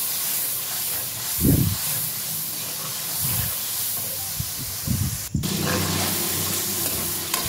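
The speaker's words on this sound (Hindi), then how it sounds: "अब थोड़ा सा पानी डाल दें साथ में, ताकि ये जो तड़का है हमारा नीचे ना लगे।" Hot oil sizzles and hisses steadily in a spice tempering for a potato and capsicum curry, with a few sharp bursts and a sudden crackling surge as water hits the pan.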